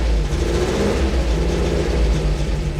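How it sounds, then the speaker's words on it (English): An old $85 car engine idles steadily after its auto choke kicks down, a loud close low rumble with an even throbbing pulse and no voices. "We are idling at an RPM."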